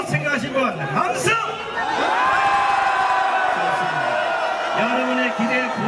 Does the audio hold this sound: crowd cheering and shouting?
yes